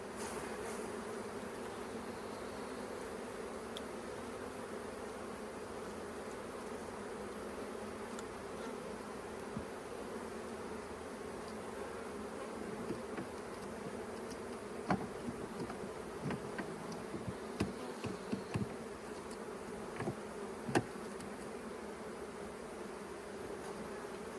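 Honeybees drone in a steady, dense buzz while a hive is split and mated queens are introduced, a continuous swarm hum close by with faint clicks and knocks scattered through it.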